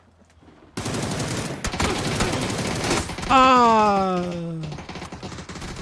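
Rapid bursts of automatic gunfire from a shooter video game, a loud dense fusillade in a solo-versus-squad match, mixed with a player's brief exclamation and a rising whistling tone near the end.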